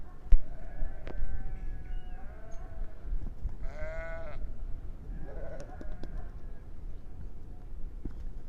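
Sheep bleat a few times over a steady outdoor background, one long wavering bleat standing out clearly in the middle.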